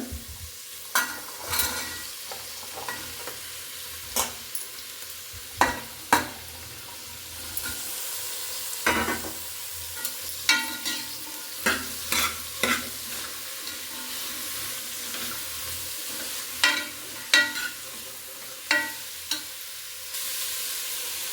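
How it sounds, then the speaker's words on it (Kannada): Vegetables for a homemade breakfast dish fried in a pan, with a steady background sizzle broken by frequent sharp scraping clicks of a spoon stirring at an irregular pace, close and moderately loud, no talking. "ಇವಾಗ ನೋಡಿ ತರಕಾರಿ ಹಾಕ್ಕೊಳ್ಳೋಣ"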